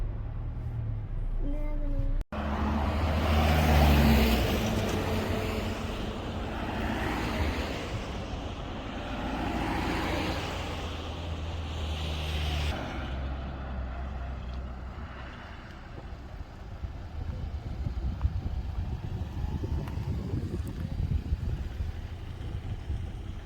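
A car rolls in reverse back down the Magnetic Hill road near Leh, its engine a steady low drone with continuous road and wind noise at close range, beginning with a sharp knock and fading slightly later on.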